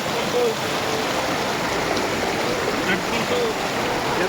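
Mountain streams swollen after heavy rain give a steady, loud rushing of water that continues evenly throughout with no pauses.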